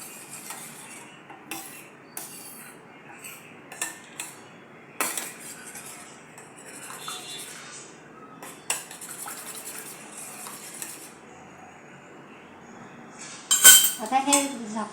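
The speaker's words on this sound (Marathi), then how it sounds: "तर ते ईस्ट आपण घालून मिक्स करून घेऊया." A spoon stirs dry yeast into dissolved sugar water for whole wheat bread, giving a series of soft, irregular clinks and scrapes against the bowl, with a louder clatter near the end.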